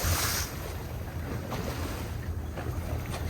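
Big ocean waves wash against a small sailboat and its dinghy at sea, a loud continuous surge and rush of water mixed with strong buffeting wind noise on the microphone.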